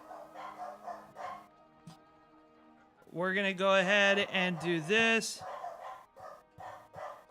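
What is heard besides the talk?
dogs barking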